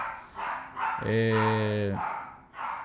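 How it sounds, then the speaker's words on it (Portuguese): A dog gives one drawn-out, howling bark at close range, with faint voices talking before and after it, indoors at home. "Agora as cachorradas vão ficar latindo 2 dias."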